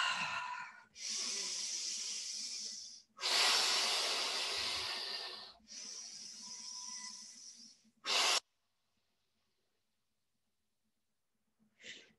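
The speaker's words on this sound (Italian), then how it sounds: "tre respiri lenti e profondi, inspirone e fuori l'aria" Slow, deep breathing during a Pilates exercise: long, close, airy inhales and exhales that run back to back, then a silent pause and one short breath at the end.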